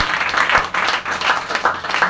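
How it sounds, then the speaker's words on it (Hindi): Audience applause for a company's best health product award, heard at a product training event. The clapping is moderate, dense and steady and runs through the whole short stretch. "इसके लिए ताली होना चाहिए।"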